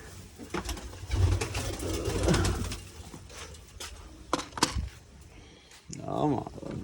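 Pigeons kept at a home loft coo in soft, low, repeated calls close by, while people talk over and between the calls.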